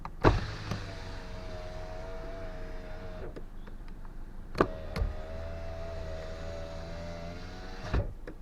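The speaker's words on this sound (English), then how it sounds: "can you show me how you would open and close your side window" A car's electric side window motoring down and then back up, each run a steady whine of a few seconds ending in a firm thunk as it stops, with a couple of clicks between, close and clear.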